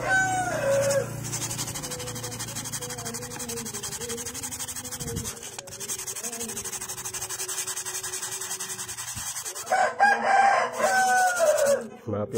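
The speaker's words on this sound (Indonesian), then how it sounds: "ada suara ayam" A rooster crows in the distance, its rising calls standing out near the start and again toward the end over a steady rasp of sanding a motorcycle speedometer lens.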